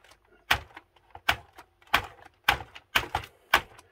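Keys on a Commodore VIC-20 computer keyboard are pressed in about seven sharp, separate clacks, close and fairly loud in an uneven rhythm with quiet gaps between them.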